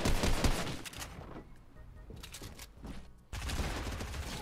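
Bursts of gunfire from a mobile battle-royale shooter game, loud at the start, thinning to sparse shots in the middle, then returning as dense sustained fire near the end, with no voices.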